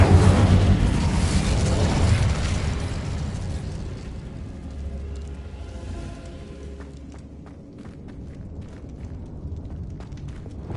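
Incendio fire spell cast in a Harry Potter video game, a loud bursting whoosh at the start that falls into a lower rumbling roar, with scattered small crackles and pops trailing off.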